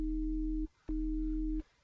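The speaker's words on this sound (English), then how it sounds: "So you can tell we have basically a sub bass and a higher sine wave at the same time." Sub bass layered with a higher sine wave synth patch in Native Instruments Massive, played as two steady sustained notes with a short silent gap between them, clean and pure in tone.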